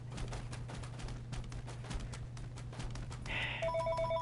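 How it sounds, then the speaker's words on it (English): A telephone rings in the video game Fallout 4, its electronic ring arriving near the end and cutting over a low steady hum and scattered game noise. "Phone's ringing!"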